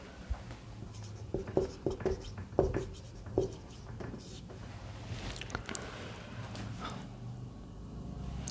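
Pen or marker writing out a percentage calculation during a maths lesson: a run of short, close tapping strokes near the start, then softer scratchy scribbling over steady low room hum, with no voice.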